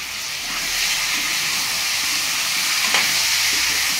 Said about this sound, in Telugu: పచ్చిమిరపకాయలు చుంచేసుకోవాలండి, ఎగురుతాయి. ఇవన్నీ ఫ్రై చేసుకోవాలి.